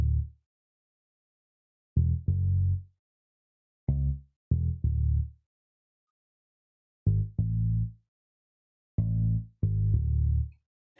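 Liverpool bass, an 808-style synth bass in Logic Pro X, playing short booming notes in a sparse rhythmic pattern of single and paired hits with silence between, close and alone.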